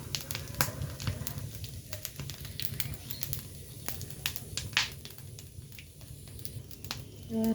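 Whole cumin seeds sizzling in hot oil in a wok, a soft steady crackle with scattered sharper pops, close but fairly quiet, and no talking over it.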